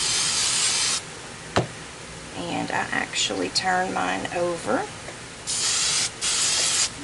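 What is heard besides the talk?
aerosol spray can spraying onto crayon bow parts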